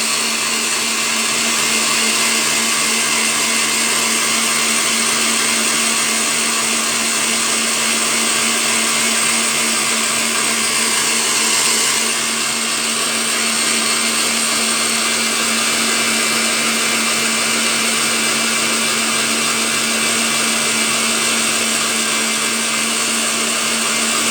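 Kitchen mixer whipping egg whites for a gluten-free stacked meringue cake, a loud, steady whirring drone running continuously and unbroken, heard close up with no voices.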